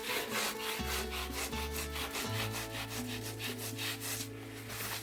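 Dried paint being rubbed off a wood and grout surface with firm pressure, producing a steady rhythmic scrubbing sound, close and fairly quiet, with no talk.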